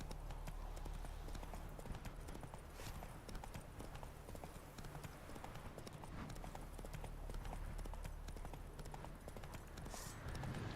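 Hooves of the horse Roach trotting in a video game, a steady clip-clop rhythm running continuously under a busy background with faint voices.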